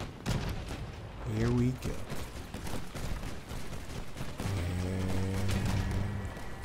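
Mandrake weapons in the Crossout vehicle-combat game firing in rapid bursts of gunfire and booming impacts, loud and cluttered, with a voice speaking briefly and engine-like tonal hums underneath.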